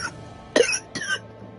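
A person coughs twice in close succession, close up and fairly quiet, the throat sounding rough and irritated, with a short silence before and after.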